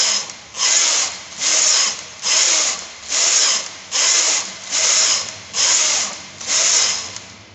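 Knitting machine carriage sweeping back and forth across the needle bed while knitting rows of a turtleneck sweater, eight even whirring passes with short pauses between, close and loud with no talk.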